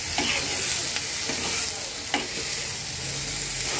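Mustard paste and drumstick mixture sizzles steadily in a pan on low heat, with a few soft stirring scrapes breaking through the continuous close frying hiss.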